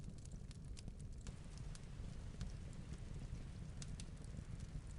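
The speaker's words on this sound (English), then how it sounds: "Let's start with the fireplace." A cozy fireplace crackles steadily with sharp little pops and snaps scattered over a soft, continuous low rush, fairly quiet and close, with no talking.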